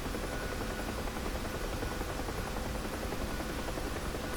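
Huey helicopter rotor in the DCS flight simulation game, a continuous dense rotor and turbine drone, steady and fairly loud with no voices over it.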